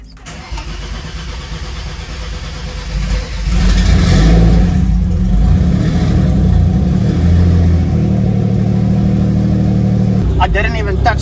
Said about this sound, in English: the car still has a kind of a hard time starting up, but it's a lot better than before